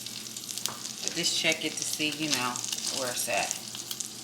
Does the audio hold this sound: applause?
no